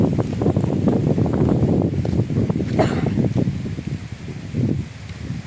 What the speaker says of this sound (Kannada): ಈ ಗಾಳಿಗೆ ಸೌಂಡ್ಗೆ ಕೇಳಿಸುತ್ತೆ ಇಲ್ವೋ ಸಿಕ್ಕಾಪಟ್ಟೆ ಗಾಳಿ ಇಲ್ಲಿ